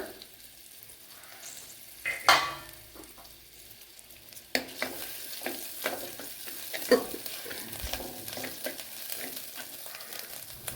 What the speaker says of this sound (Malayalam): ഇവിടെ 1 ടേബിൾ സ്പൂൺ വെളിച്ചെണ്ണ ചേർത്ത് കൊടുത്തിട്ടുണ്ട്. അതിലേക്ക് ഇഞ്ചി വെളുത്തുള്ളി ചതച്ചത് ചേർത്ത് കൊടുക്കുക.